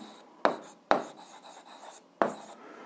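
A pen scratches across paper in short strokes, with three sharper taps as it lands on the page, close and quiet with no talk.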